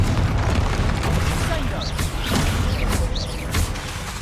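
Confringo blasting spell in the game Hogwarts Legacy, a sustained heavy booming roar with several sharp bursts and pops layered on top, loud and close throughout.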